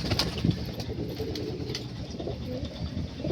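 Punjabi pigeons kept for sale coo in low, repeated throaty calls, close by and fairly loud, with a few faint chirps and rustles around them.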